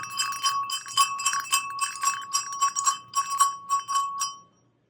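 An antique sleigh bell is shaken in a quick rhythmic jingle, bright tinkling strikes repeating a dozen or so times close up before stopping abruptly.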